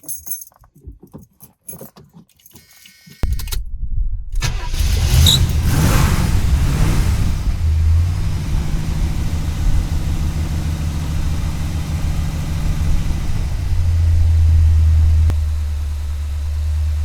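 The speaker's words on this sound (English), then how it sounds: "we'll start the car again and see if we hear any difference in the engine sound" A few faint jangles, then a car engine cranks and catches after a power steering fluid service, settling into a steady, loud, low idle that hums on continuously nearby.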